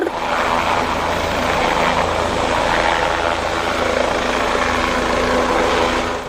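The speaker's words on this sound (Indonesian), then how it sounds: "ternyata di sini ada helikopter" A toy helicopter gives off a loud, steady whirring drone that holds at an even level throughout, close up with no voices over it.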